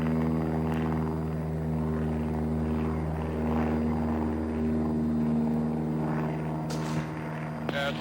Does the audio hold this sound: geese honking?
no